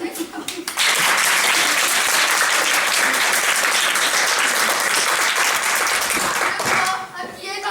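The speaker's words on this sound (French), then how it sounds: "On doit applaudir tous les deux très fort" Loud, sustained audience applause at a stage performance rises sharply after a brief voice, holds as a thick, even roar of clapping, then eases near the end with a voice returning.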